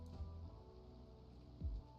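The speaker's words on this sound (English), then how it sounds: "And again, it's raining" Steady rain falling in the city-building game Cities Skylines II, a soft continuous wash of drops with a couple of low thumps, at moderate, even loudness and with no talking.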